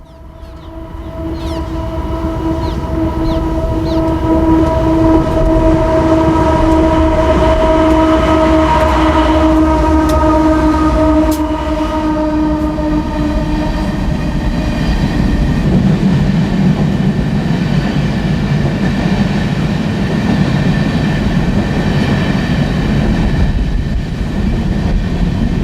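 An empty coal train in the Powder River Basin, heading for the Caballo Rojo mine, comes down a hill. Its horn sounds in long tones, then the cars roll past close by in a loud, continuous rumble and clatter.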